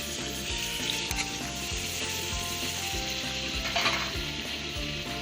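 Tomatoes hiss and sizzle loudly in a hot pan while being stirred for an aloo gosht curry, a steady frying crackle with scraping stir strokes throughout and no talking.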